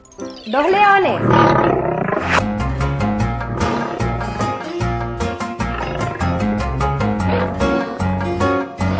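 Lions roar in a children's counting programme, several deep rumbling roars layered over cheerful background music, loud and close, one after another.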